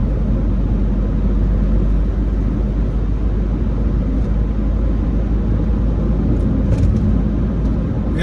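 A car cruises steadily through the Lincoln Park neighborhood of Valdosta, Georgia, its loud, constant low road rumble and engine drone filling the cabin without pause.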